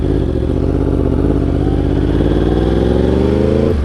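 A Yamaha R1 sport motorcycle cruising steadily in third gear on cruise control, its engine a loud, continuous, even drone close by with a slight rise in pitch toward the end and no talking.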